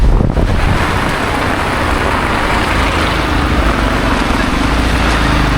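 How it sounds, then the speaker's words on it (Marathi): Torrential downpour in flooded Nalasopara near a highway flyover, a dense, loud, continuous roar of heavy rain mixed with wind buffeting the microphone, steady throughout with no voices. "खूप जोरात पाऊस आला आहे पुन्हा"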